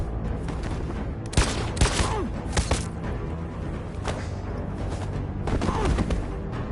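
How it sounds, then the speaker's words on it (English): Gunfire in a third-person action game set in a near-future Detroit: a few sharp, loud shots in quick succession near the start, then a pause and another close cluster of shots later, over a steady low ambient bed. "I'm gonna try and shoot him this time"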